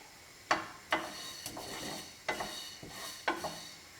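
Coriander seeds roasting in a dry, oil-free pan over medium heat, stirred with a utensil that scrapes and taps the metal in irregular sharp clicks over a faint steady sizzle, close by with no talking.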